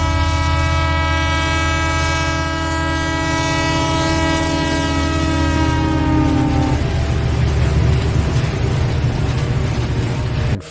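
A train runs on rails as an effect in an Indian audio drama set around Shoranur in Kerala: a loud, sustained multi-tone horn holds for several seconds over a steady rumble, then gives way to continuous rolling wheel noise.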